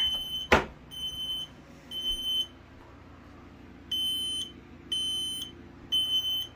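Smoke alarm shrieking in repeated high-pitched bursts, several separate blasts with short gaps between them, loud and close, with a sharp thump near the start and no talking.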